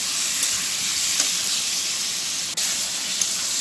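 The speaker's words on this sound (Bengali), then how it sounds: "তো চিকেনটা দেখি কতক্ষণ ভাজি, ভালো করে ভেজে নিয়ে চিকেনটা যে সাদা সাদা হয়েছে চিকেনটা।" Chicken sizzles and fries steadily in a hot pan for a Bengali chicken kosha, a close, continuous crackling hiss with no talking.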